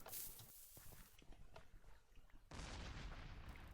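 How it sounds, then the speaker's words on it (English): A cannon fires in Minecraft during a team match, giving sharp broadband blasts and scattered thumps, then a loud, sustained burst of noise. "Cannon for Doctor coming in as well"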